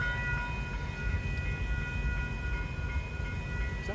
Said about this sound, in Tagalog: First time po natin makakita dito sa Auckland ng train.